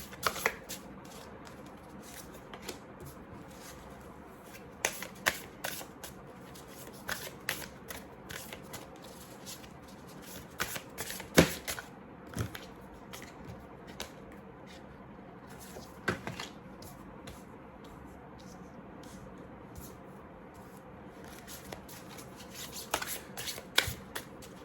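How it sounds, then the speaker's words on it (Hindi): A deck of tarot cards is shuffled close by in a quiet room, making soft, irregular riffles, taps and flicks in scattered bursts over a low, hushed background with no talking. "सेकेंड डेक जो मैं अभी शफल कर रही हूँ उससे हम मंत्र निकालते हैं।"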